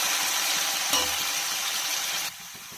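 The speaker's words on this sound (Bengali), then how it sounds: "আলুটা হালকা ভাজা হতে থাক।" Potato pieces fry in mustard oil in a wok, giving a continuous close sizzling hiss with a brief clack partway through before the sound drops slightly near the end.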